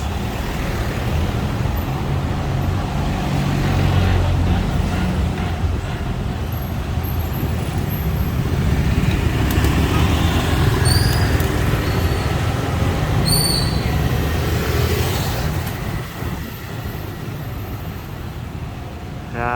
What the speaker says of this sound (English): we're getting into a bit of a traffic jam here